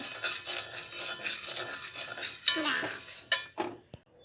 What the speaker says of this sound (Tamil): பருப்பை போட்டுடலாம் பருப்பு நல்லா சுவக்க வறுக்கலாம்